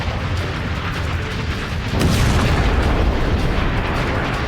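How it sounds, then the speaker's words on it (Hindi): An air strike on the 15th Khordad barracks in Iran sets off a series of powerful explosions, heard as a loud, continuous, roaring rumble that swells heavier partway through. "ये कोई आम धमाका नहीं था। एक के बाद एक कई धमाके होते गए।"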